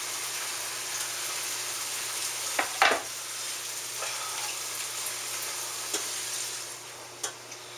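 Schmaltz heating in a pot sets up a steady, close sizzle, broken by a few brief clinks and scrapes as it is stirred.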